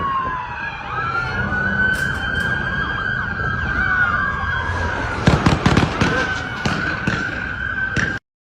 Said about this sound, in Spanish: Se escuchan los disparos del sospechoso